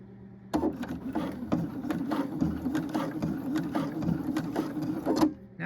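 A sewing machine stitches through thick jean fabric in a steady, rapid mechanical rhythm, close and moderately quiet, running continuously for several seconds.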